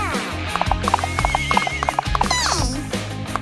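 Galloping horse hooves make a rapid, rhythmic clip-clop, loud and close, with squeaky toy-like tones and a musical bed running underneath.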